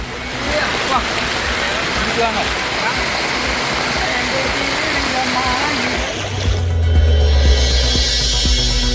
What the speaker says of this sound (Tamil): நீலகிரி மாவட்டம் பந்தலூரில் இருபத்தி எட்டு சென்டிமீட்டர் மழை கொட்டி தீர்த்தது